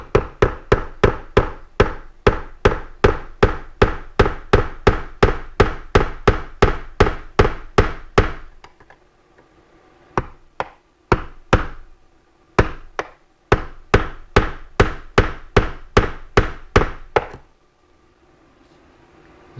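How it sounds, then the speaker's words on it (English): Rapid, regular hammer knocks on metal and wood as door hinge pins are knocked out: a long run of sharp strikes, a pause, then more evenly spaced blows; loud and close. "We're going to knock these hinge pins out"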